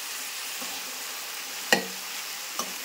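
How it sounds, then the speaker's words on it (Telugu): Potatoes and carrots frying in a pan, a steady soft sizzle with two sharp scrapes of a spoon stirring them, close up and without talk. "ఆలు వేసుకొని మిక్స్ చేసుకుందాం"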